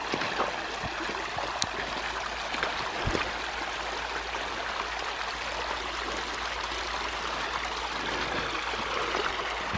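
Fast-flowing stream in snowy winter woods, a steady broadband rushing and gurgling of water heard close and continuous throughout, with a few faint knocks and no talking.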